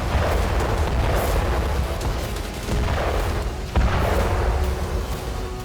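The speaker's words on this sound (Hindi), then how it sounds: "जर्मनी के पैंजर हाउविट्ज 2000 SPG टैंकों से रूस पर गोरिल्ला हमला किया" German Panzerhaubitze 2000 self-propelled howitzers fire on a Ukrainian front line, with heavy, rumbling booms repeating every second or so over a continuous roar of battlefield noise.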